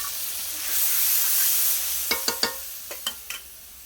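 Spice masala with ginger-garlic paste fries in a pan, a soft hiss swelling early, then a quick series of about seven sharp clinks and scrapes from a spoon stirring against the metal.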